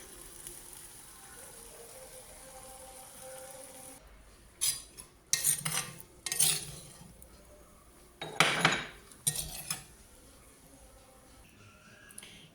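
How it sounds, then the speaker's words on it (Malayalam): Olan curry is moved from a clay pot to a serving dish, with several sharp clinks and scrapes of a spoon against the pot and dish coming in short bursts over a faint background hum, without any talking. "ഇനി ഇതുകൂടെ നമുക്ക് സർവിങ് ഡിഷിലോട്ട് എടുക്കാം."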